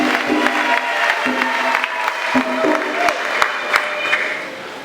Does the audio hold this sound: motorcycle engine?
no